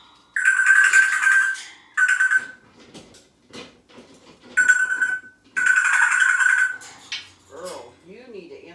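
A cockatoo imitates a phone ringing in several loud electronic-sounding trilling bursts, broken by short gaps and followed by softer squawks and chirps.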